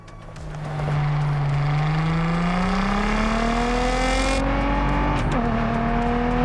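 A Nissan GT-R in Test Drive Unlimited Solar Crown drives at speed with a loud, sustained engine drone that climbs steadily in pitch as it accelerates, then dips briefly with a gear change.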